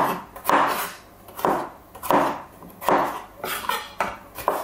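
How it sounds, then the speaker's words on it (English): A knife chopping potato into cubes on a board, about eight firm, evenly paced cuts, close and clear, with no talking. "We need in like cubes, I think, because it's a simple soup. It's classic way to cut potato."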